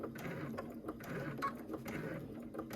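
A domestic sewing machine stitching slowly while sewing a cosmetic bag: a soft, rhythmic mechanical ticking and whirring with regular needle strokes, close but quiet, running steadily without speech.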